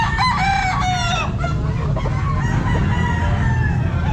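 A Hatch Gray gamefowl rooster at a Calumpit pet market crows close by in a strong, wavering call near the start, followed by further clucks and crows over the steady hum of the market.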